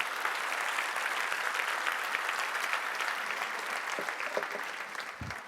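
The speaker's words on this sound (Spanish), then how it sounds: "Dele un aplauso fuerte a nuestro Dios." A church congregation gives strong, sustained applause during a sermon, with many hands clapping together at an even level until a brief sound near the end.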